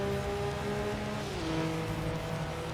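A racing car in Tokyo Xtreme Racer holds a steady engine and exhaust drone throughout, with the pitch dropping briefly in the middle as if shifting gear, all at moderate level with no talk.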